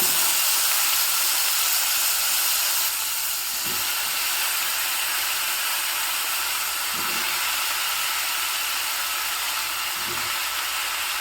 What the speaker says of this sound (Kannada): ಇವಾಗ ಈ ನೋಡಿ ಹೋಳುಗಳನ್ನು ಒಗ್ಗರಣೆಗೆ ಹಾಕ್ಕೊಳ್ಳೋಣ